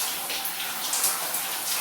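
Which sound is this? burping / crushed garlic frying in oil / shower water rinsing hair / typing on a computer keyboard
shower water rinsing hair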